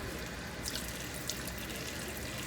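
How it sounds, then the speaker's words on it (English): Cold tap water runs steadily into a container in a home kitchen, a soft continuous splashing hiss at moderate distance with no speech. "And then I'm just going to run some cold water inside of here, like so."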